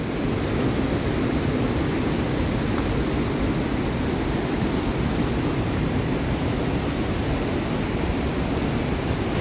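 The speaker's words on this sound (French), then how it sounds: "Oh, de nouveau, on entend le torrent." A mountain torrent rushes nearby, a steady, dense roar of water that stays constant and loud throughout with no voices over it.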